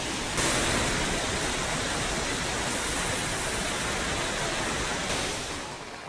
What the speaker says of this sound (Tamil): இடங்களில் கனமழை பெய்தது